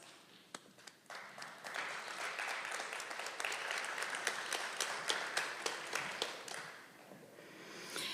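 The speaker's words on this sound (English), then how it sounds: "a round of applause." Graduates stand and applaud their supporters at an adult school graduation ceremony, a soft, distant crowd clapping that builds quickly into a sustained, fairly even round with a few sharper individual claps standing out.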